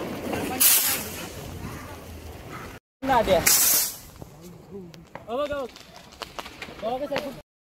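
Two loud hissing whooshes of a hand-held Diwali rocket firework spraying sparks in the rain, followed by people talking excitedly nearby.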